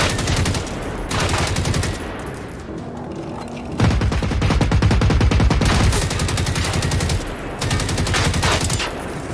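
Enemy fire over a wall in Generation Zero: heavy machine-gun bursts in long loud volleys with short pauses between, rapid rattling shots close and dominant, no talk over them.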